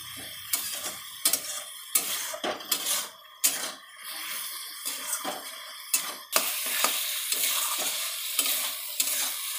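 Masala gravy for village-style ghugni fries in a pan while a metal spoon scrapes and stirs it in repeated clinks, followed by a steady, louder sizzle with no talking.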